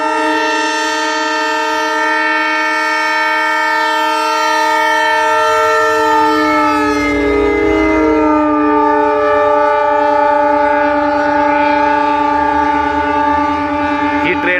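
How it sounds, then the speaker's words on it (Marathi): A high-speed railway trial train at a station near Beed sounds a long, sustained horn blast that rings loud and close over a low rumble of the passing cars. "ही ट्रेन पाहून तुम्हाला काय वाटतंय"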